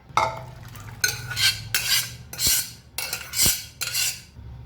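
Cooked beans being moved into another pot for Kerala-style olan, with repeated metal scraping and clinking of a spoon against vessels in several close bursts, no voices.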